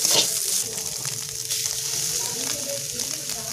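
Lote fish fries in a pan with a bright, steady sizzle, and a spatula stirs it in occasional scrapes. A louder hiss comes at the start, then a constant crackle.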